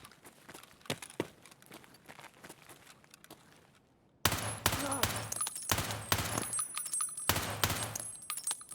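Bursts of video game gunfire crack out in rapid volleys, sparse and quieter at first, then suddenly much louder and denser in the second half, with a few faint sounds like footsteps in between.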